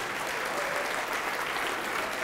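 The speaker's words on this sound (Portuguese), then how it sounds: "vamos aplaudir mais ao nome de Jesus" A church congregation claps steadily and loudly, a dense continuous wash of applause without pauses.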